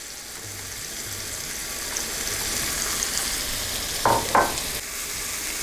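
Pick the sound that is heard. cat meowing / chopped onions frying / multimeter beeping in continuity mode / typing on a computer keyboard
chopped onions frying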